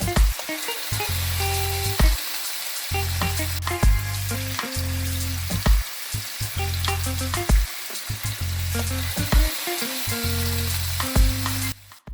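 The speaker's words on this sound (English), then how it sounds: "I'm going to take it out and get ready to sear it" Lamb chops searing in a hot pan on a stovetop give a loud, steady sizzle and frying crackle that runs through the whole stretch, broken by short pauses and bursts as the meat is moved and turned.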